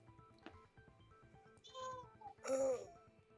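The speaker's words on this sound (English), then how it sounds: "Did you hear my cat?" A pet cat lets out a few meows close by, a short early cry, then a drawn-out one and a louder rising yowl, with a low voice murmuring faintly underneath.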